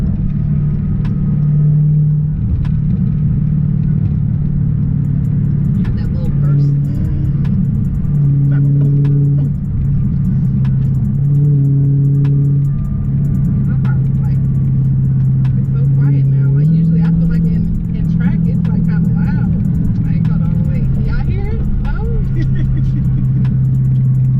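A Dodge Charger's engine rumbles and revs steadily throughout, with deep low tones rising and falling and occasional small pops, heard from inside the car under ongoing conversation.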